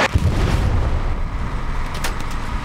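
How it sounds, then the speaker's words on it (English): Rockets and explosions in the WWII shooter Hell Let Loose with a tank nearby: a dense, continuous barrage of booming blasts and rumbling low impacts, loud and close, with no voices. "They're shooting rockets at me."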